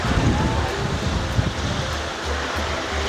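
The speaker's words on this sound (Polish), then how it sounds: "Zobaczcie, jaka piękna plaża." Surf and wind on a beach at Morro Jable, Fuerteventura: a continuous loud wash of breaking waves mixed with gusty wind noise on the microphone, steady throughout.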